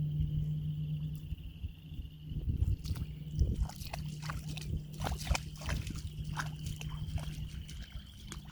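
A child wades and sloshes through shallow water at a recreation area outdoors, with irregular splashes and trickles that build midway, fairly faint and near, under a low steady hum.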